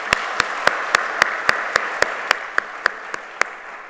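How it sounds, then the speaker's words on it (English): Applause from an audience at a sports organisation's executive address, with evenly spaced sharp claps ringing out in a steady rhythm over a softer wash of clapping. "Let us take a moment to acknowledge this with a round of applause."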